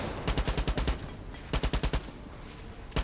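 Enemy gunfire in the video game Far Cry 6 comes as three quick automatic bursts of sharp, loud shots with short pauses between them.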